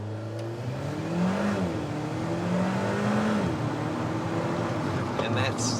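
An Alfa car launches hard from standstill to 100 km/h, its engine note climbing steadily through the gears in a loud, continuous roar heard from inside the car, with a brief pause and rising pitch at each shift.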